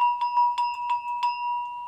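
A metal Haitian bell rings with a steady sustained tone while a wooden clapper strikes it in a quick series of soft knocks, close up.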